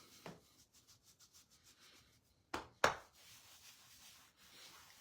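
During a self-massage, fingers tap in a quick, soft, rapid rhythm near the shoulder and chest, then give two sharper rubbing strokes and a softer brushing rub.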